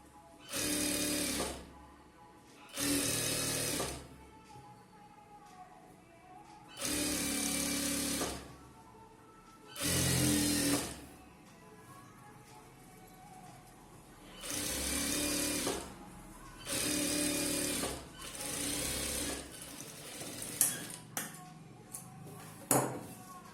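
A sewing machine stitching a chudithar top and pant runs in eight short bursts of a second or two each, with quiet pauses between, close and fairly loud.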